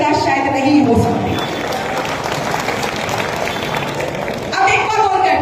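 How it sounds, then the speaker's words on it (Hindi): Audience at a BJP nomination rally in Nohar breaks into sustained applause, a dense wash of clapping and crowd noise that swells at the start and again near the end, with voices mixed in. "आपने तालियां बजाई ना उस पे"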